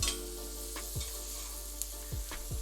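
Chorizo sizzles and crackles steadily in a hot frying pan, a close, continuous hiss broken by a few brief scraping stirs.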